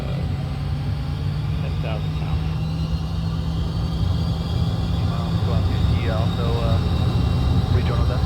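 Twin jet engines of an F-4 Phantom II in a flight simulator roar steadily at full military power while the aircraft is held on the brakes, a constant low rumble with a voice talking over it.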